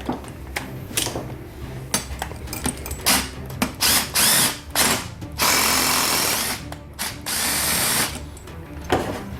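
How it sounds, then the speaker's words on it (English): An impact wrench removes bolts threaded into a bearing during a Honda/Acura transmission teardown, loud close bursts of rattling hammering, some short and choppy, then longer sustained runs. "screw these bolts on it, and we use our impact to remove them"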